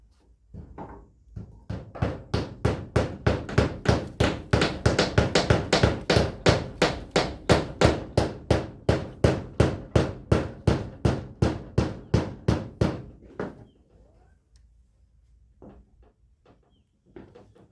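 Carpenters building a house hammer nails with a fast run of about forty sharp, evenly spaced blows, loud and close, that stops abruptly and leaves faint scattered knocks and quiet movement.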